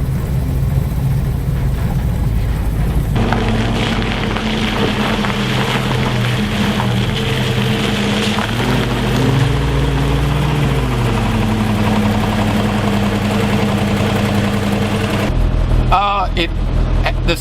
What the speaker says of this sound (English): that particular unique sound of the old Jeep